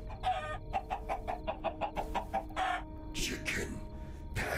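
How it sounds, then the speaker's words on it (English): In an animated Minecraft-style video game, a chicken clucks in a rapid, steady string of short pulses over a low background hum, followed by a few louder bursts of other sound. "Chicken. Passive, peaceful creature."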